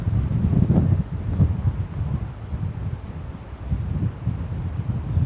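Wind buffets a small vlogging microphone outdoors, making a continuous low, rumbling roar that swells and dips throughout, with no one speaking.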